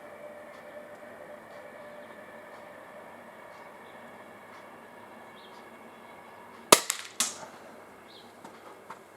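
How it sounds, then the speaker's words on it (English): A Buckmark Magnum air pistol fires a single sharp crack, followed by a couple of quick rattling echoes. The shot stands out against a quiet, hissing outdoor background. "Okay, that's the first shot."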